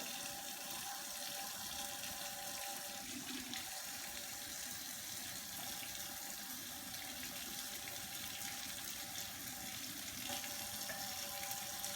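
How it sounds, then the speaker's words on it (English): Water at 85 degrees running steadily into wheat flour for a wild yeast bread starter, a continuous close hissing pour with no speech over it. "And now we're going to put in 400 grams of water. This time we're going to use 85-degree water."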